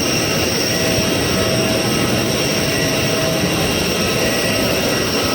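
Airbus passenger jet at an airport, a loud, steady broadband engine roar with a constant whine, heard nearby and uninterrupted, with no talk.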